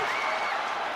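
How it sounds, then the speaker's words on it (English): Crowd applause at a St Helens versus Wigan Warriors rugby league match, a broad, steady wash of clapping that stays even from start to finish. "Draws applause from this crowd."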